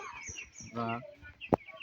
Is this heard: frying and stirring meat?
no